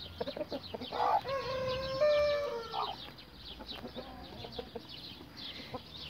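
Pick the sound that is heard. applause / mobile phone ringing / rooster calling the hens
rooster calling the hens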